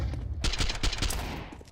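Scout sniper rifle shots in a Counter-Strike esports match, heard as a loud burst of sharp gunfire cracks packed closely together, filling the first second before fading into game ambience.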